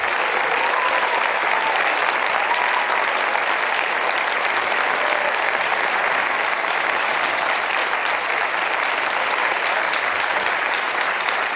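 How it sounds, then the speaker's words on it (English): A large audience at a democracy summit in Copenhagen claps in sustained, dense applause that stays loud and even from start to finish without a break. "Please give them a big round of applause."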